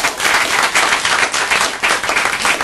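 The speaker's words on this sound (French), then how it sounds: "On vous applaudit, Antoine et Magali." An audience applauds Antoine and Magali in a radio studio, with a burst of dense clapping that swells and falls in waves, loud and close.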